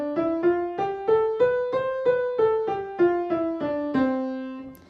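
A major scale played note by note at an even pace, rising step by step and then falling back to the starting tone. The notes are clear and solo, with a last note held longer than the others.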